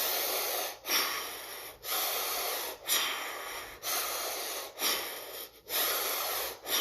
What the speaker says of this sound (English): even use the inhale to help lift the arms up and forcefully exhale to lower them down